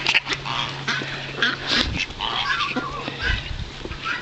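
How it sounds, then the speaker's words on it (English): A crowd of farm ducks quacks and chatters continuously at close range, a busy overlapping flock with grunting animal noises mixed in. "Look at all them ducks."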